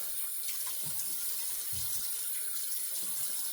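Bathroom tap running into a sink while a face is wetted before a shave, a steady hiss of flowing water with soft splashes and gurgles, close and moderately quiet, with no voices.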